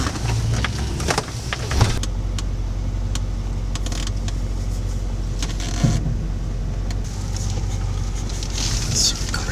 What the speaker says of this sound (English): We're still driving down Bobby's Hole.